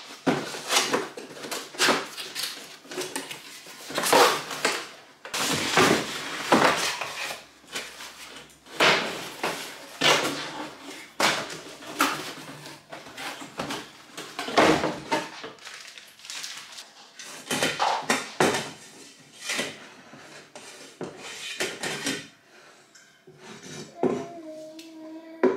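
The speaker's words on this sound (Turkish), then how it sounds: "Döküm tencere." A new cast iron pot being unboxed and handled, with a steady run of hard knocks, clanks, scrapes and rustling packaging close by, in bursts with short pauses.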